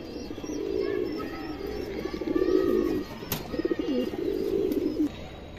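Pigeons, including silver-breed birds, give repeated low, throaty coos in a steady rhythm of several phrases, close and fairly clear, with a couple of sharp clicks and no talk.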